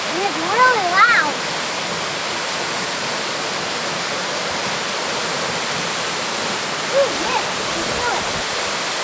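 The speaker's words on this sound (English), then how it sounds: "Oh, this is an awesome waterfall. Yeah. It's really loud." A loud waterfall near Mount Timpanogos, Utah, roars as a close, constant rush of water, with brief voices rising over it near the start and again later.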